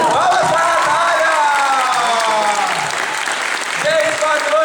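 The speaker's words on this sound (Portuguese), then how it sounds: "Palmas pra Natália" Audience applause and some cheering erupt after a Vinicius de Moraes poetry reading at a theatre performance, loud dense clapping from a crowd with voices calling out over it throughout.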